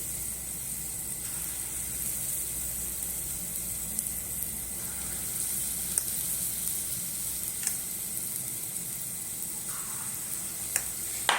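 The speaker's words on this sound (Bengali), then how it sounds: "আমি অল্প অল্প করে ভেজে নেবো এইভাবে।" Palm fruit fritters (taler bora) frying a few at a time in oil make a soft, constant bubbling sizzle, steady and fairly quiet, with occasional faint clicks.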